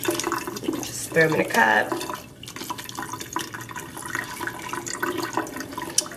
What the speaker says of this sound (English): go ahead and rinse all the sugar from the packaging off of the strawberries